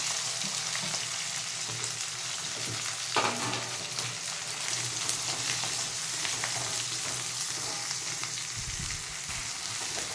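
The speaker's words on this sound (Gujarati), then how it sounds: "આ કડી પત્તા છે અને આ ડુંગળી સમારી હતી એ લઈ લેવાની" Curry leaves and chopped onion fry in hot oil in a pan, a steady broadband sizzle that runs throughout with faint stirring scrapes and a low hum beneath, no voices.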